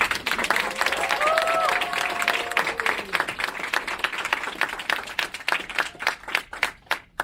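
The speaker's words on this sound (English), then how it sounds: "give another round of applause to the Lieutenant Governor of the Commonwealth of Virginia" An audience at an NAACP Virginia lobby day press conference applauds the Lieutenant Governor of Virginia, a full burst of clapping with a few voices calling out, thinning into scattered individual claps toward the end.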